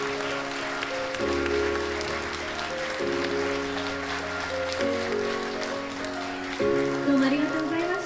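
A theatre audience at a social welfare centre in Nara applauds a drama troupe. The clapping is steady and moderately loud throughout, layered with sustained musical chords that change every couple of seconds.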